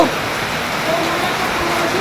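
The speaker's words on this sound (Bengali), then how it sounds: "দেখো দেখো কেমন বৃষ্টি হচ্ছে" Rain falling steadily outside, a broad, continuous wash of noise close by that fills the whole stretch without letting up, with a voice faintly present underneath.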